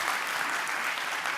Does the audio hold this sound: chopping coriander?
no